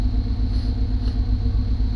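A truck engine idles steadily just after starting, with a loud, even low rumble and a smooth, unbroken drone that stays close and continuous, no voices over it.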